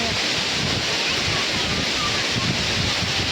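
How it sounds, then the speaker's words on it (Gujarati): Water at Ranjit Sagar reservoir in the rain, a steady broadband rush and wash, loud and continuous with wind-like buffeting throughout, no clear voices. "આ પાણીનો અવાજ આવે"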